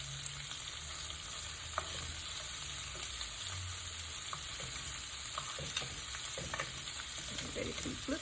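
Shrimp and onions frying in a pan for a taco meal, a steady close sizzle with occasional faint clicks and stirring scrapes.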